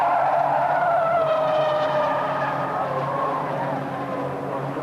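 Ford Escort rally cars race through a bend at Brands Hatch circuit, engines loud and close with tyres skidding and screeching, the roar slowly fading as they stream away.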